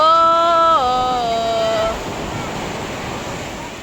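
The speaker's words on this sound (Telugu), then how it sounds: "పెద్ద అల" Large waves crash onto the sand at Singarayakonda beach in Andhra Pradesh. A loud roar of surf is joined by a sustained pitched tone for the first two seconds, after which the broad wash of water carries on alone, slightly softer.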